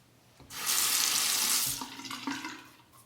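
Razor rinsed under a running tap during a wet shave, a faint hiss of water that swells suddenly, pours steadily for about a second, then breaks into splashes and trickles as the blade is swished.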